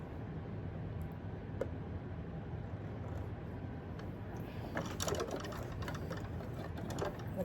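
A sewing machine hums along at a steady pace, then breaks into a burst of quicker, clattering stitching toward the end, heard close up with no talk.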